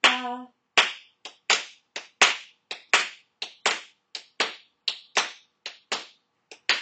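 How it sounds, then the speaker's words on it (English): Hands clap a swung rhythm in about seventeen crisp, close claps, evenly spaced in an uneven long-short pattern, with no talking over them. "I want you to clap the swing, okay?"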